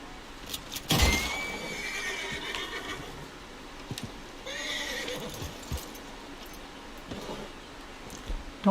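In Red Dead Redemption 2, a horse lets out a loud, close whinny, then a quieter second neigh, with soft hoof clops and small game sounds around it.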